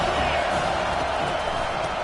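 A stadium crowd in the NCAA 25 college football video game, a broad, steady roar of cheering that holds at an even level throughout, with no voices on top.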